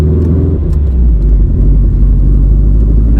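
A supercharged Subaru Outback engine with forged internals hums at low revs while driven gently, a loud steady low-pitched drone with slight whir, no voices.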